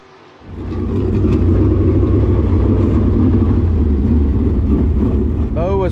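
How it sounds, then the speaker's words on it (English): Race cars at Southern Raceway's Winter Shootout roll down the front straightaway after a hot lap session, a loud steady engine rumble that starts abruptly and holds, with a brief rising whine near the end. "Cars slowing here down the front straight away"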